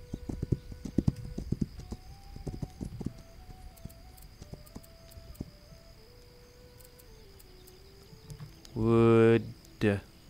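Horse hooves clip-clop in This Land Is My Land, a trotting rhythm at first that fades away into quiet ambience, followed near the end by a loud burst of voice.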